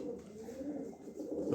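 Pigeons cooing close by: soft, low, rounded coos rolling on through a short stretch, fairly quiet, with no speech.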